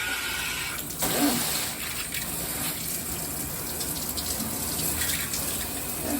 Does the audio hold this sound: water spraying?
yes